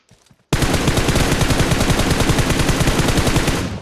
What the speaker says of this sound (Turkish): İleriden sıkanlar vardı arkadaşlar. Onlar büyük ihtimalle şu Gatka'dan sıktılar.